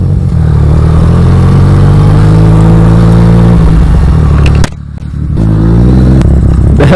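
Yamaha FZ-09 or Honda Grom motorcycle engine revving loudly during wheelie practice, a steady roaring drone with a brief drop in throttle before building back up.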